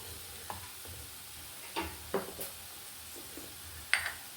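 A potato curry cooks in a pan with a faint, steady sizzle, broken by a few quiet stirring scrapes and light clinks of a spoon against the pan.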